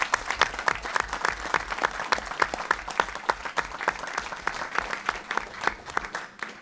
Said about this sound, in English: a big round of applause, really